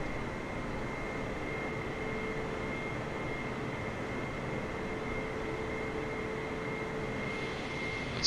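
Boeing 747 jet engines in the Microsoft Flight Simulator 2020 game give off a steady, loud, broadband roar that holds unchanged throughout with no talking.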